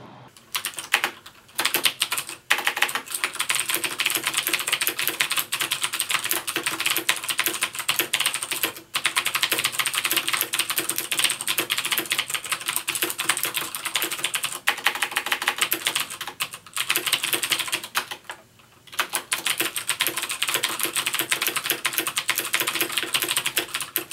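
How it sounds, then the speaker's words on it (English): Steady, fast typing on a Das Keyboard Professional S mechanical keyboard, a dense run of crisp clicks and clacks with a few short pauses, close up and fairly loud, no voices. "I made a short clip of me typing just so you could hear the sounds of the keyboard itself"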